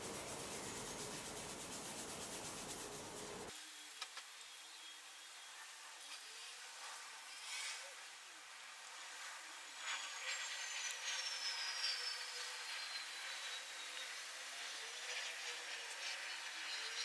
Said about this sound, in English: And I'll buff this off, then we'll come back to give it sort of a final finish.